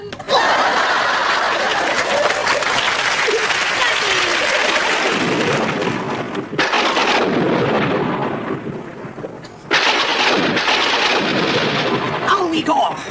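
A thunderstorm in a comedy sketch's mad-scientist laboratory scene: a loud, continuous roar of rain and rumbling thunder that drops back briefly and then surges again in sudden bursts.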